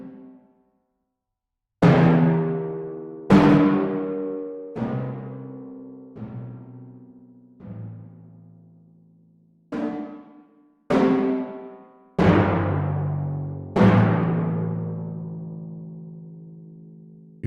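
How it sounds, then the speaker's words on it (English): Orchestral timpani struck in a slow sequence of single resonant hits, each booming note ringing and decaying before the next, with pitches stepping around and a final pair of louder, fuller strokes; no voices. "And a timpani."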